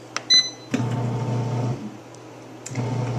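A bread machine mixes gluten-free pumpkin quick bread: a few electronic beeps, then a low motor hum that stops briefly and starts again.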